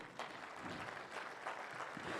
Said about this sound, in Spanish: una vez más fuertes aplausos